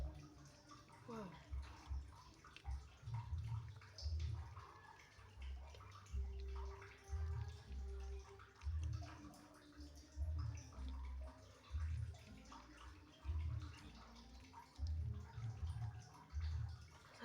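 Running water while someone washes their face, a soft rhythmic splashing that swells and fades repeatedly, fairly faint with a little voice in the background.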